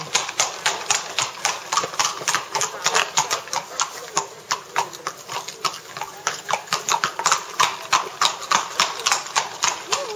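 A horse's hooves clip-clop in a steady, brisk rhythm on a hard surface, close and distinct throughout, with continuous regular beats.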